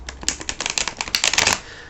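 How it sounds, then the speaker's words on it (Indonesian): Tarot cards being shuffled by hand, a quick run of crisp riffling snaps and flutters close by, with no talking. "aku akan shuffle dulu kartunya."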